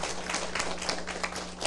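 An audience claps in a dense, continuous patter throughout, a moderately loud burst of many hands with no speech over it.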